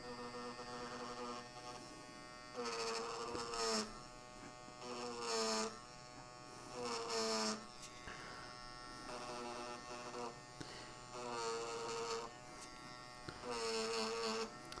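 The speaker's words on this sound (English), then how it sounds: "This is my Derwent. It's an electric eraser." Derwent battery electric eraser for pencil drawing, buzzing in short bursts of one to two seconds with pauses between them, a thin, close motor whine over a low background hum.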